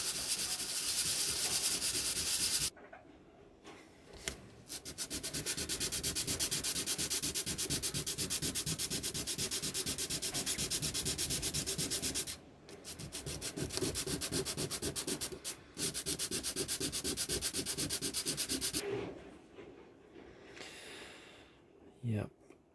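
Rubbing and sanding corrosion off the back panels of a pair of LS3/5a speakers, a dense continuous scrubbing rasp that runs loud for long stretches with a few brief pauses, close up and without talk.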